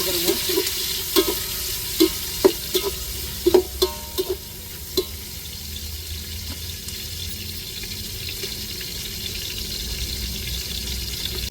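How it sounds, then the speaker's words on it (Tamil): Onions frying in a pan for a vegetable biryani, with a steady low sizzle throughout and a run of sharp clinks and scrapes from stirring in the first five seconds before it settles into continuous frying. "இப்போ வெங்காயத்தை சேர்த்துக்கிருவோம் வெங்காயம் நல்லா பொன் நிறமாக வரையும்"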